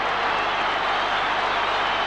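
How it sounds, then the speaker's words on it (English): Football crowd cheering and applauding after Tim Watson scores, a dense, steady roar of clapping and voices that stays loud and unbroken throughout. "Listen to that crowd."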